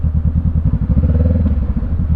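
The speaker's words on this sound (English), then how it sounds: "Just giving a little revs" A 2017 Honda CB500F motorcycle engine revved up while stopped during a commute, a loud, close throaty rumble that swells and falls in short repeated blips, with no talking over it.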